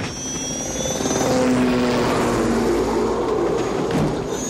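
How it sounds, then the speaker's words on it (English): A helicopter in flight gives a steady, loud, close rotor and engine roar that holds throughout with little change. "I can fly a helicopter."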